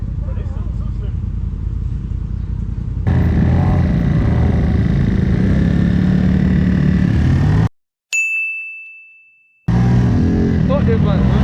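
A dirt bike engine idles and runs in a rainforest with a rough, mid-pitched chugging drone under steady talking, briefly dropping out before a bright ding and then resuming.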